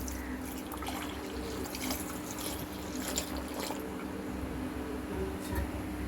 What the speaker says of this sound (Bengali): এবার আমরা দিয়ে দিচ্ছি পরিমাণ মতন দুধ।